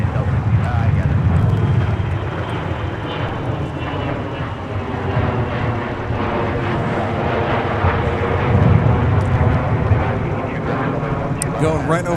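A fixed-wing airplane passes overhead at a snowy, windy airport, a loud, sustained engine roar that swells and holds for the whole stretch, with radio-style talk heard underneath.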